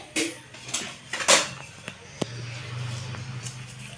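A spoon scrapes and knocks a few times against a pot of chicken stew, sharp close clinks spaced irregularly, followed by a low steady hum from the stove.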